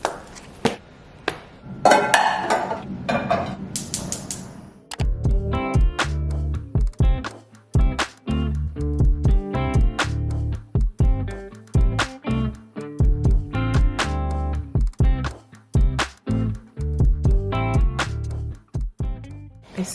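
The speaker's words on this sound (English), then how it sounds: "We're chopping up some dinner." Vegetables being chopped for dinner on a cutting board: a brief rustle of handling, then rapid rhythmic knife strikes in bursts, close and clear, with short pauses between runs.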